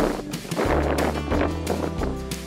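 Strong wind buffets the microphone with low rumbling thumps and a broad rushing noise, continuous and close.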